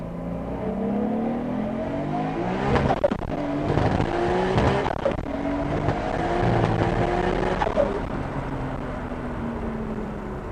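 A turbocharged R32 Skyline GT-R with a T67 single turbo revs hard and climbs in pitch through first, second and into third gear, with brief drops at each shift, loud and close throughout.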